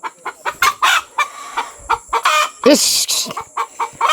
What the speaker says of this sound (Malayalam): കോഴി ഒച്ചപ്പാടാക്കിയെന്ന് ഒന്ന് കോഴീൻ്റെ ഒച്ച